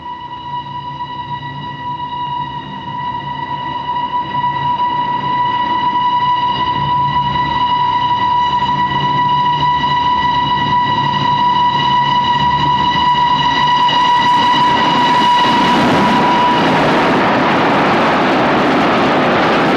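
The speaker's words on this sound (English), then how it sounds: "No, it's the express. The boat train." An express boat train roars through a station without stopping, a loud sustained rushing rumble with steady ringing tones that swells and grows harsher toward the end, with no voices.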